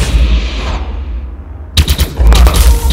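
Rapid gunfire from a weapon in the video game Elite Dangerous Odyssey bursts in loudly after a quieter stretch of low rumble, continuing as dense, rattling shots to the end.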